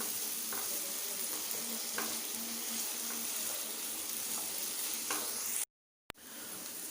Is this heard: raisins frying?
yes